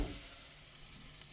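Onions sizzle steadily in a frying pan with oil, a continuous close hiss with no talking.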